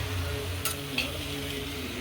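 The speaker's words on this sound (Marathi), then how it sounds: "पडवळाचा हा मिक्स करून घेऊ भाजीमध्ये, सगळ्या डाळ आणि कांद्यामध्ये." Snake gourd being stirred into a dal and onion curry in a pan, a steady low sizzle with a couple of brief metallic clinks from a utensil, close and without talking.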